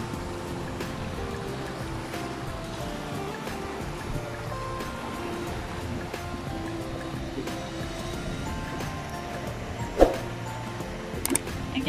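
Ocean surf where a river meets the sea, a steady broadband wash of waves heard from a distance, continuous and even, with one brief sharp knock near the end.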